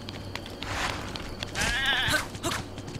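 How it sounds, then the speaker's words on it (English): Goat in a video game bleating a couple of times, a wavering call rising over soft background game noise and footsteps. "Oh, there's a goat!"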